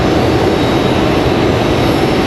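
A JetBlue jet airliner landing on runway 23 left at Raleigh-Durham airport gives a loud, steady, broadband roar, close and unbroken, with no voices over it.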